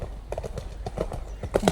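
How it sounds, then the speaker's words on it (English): Horse hooves clip-clop on a hard surface at an outdoor equestrian event, an uneven run of close footfalls, with faint voices in the background. "I think we've got a horse coming."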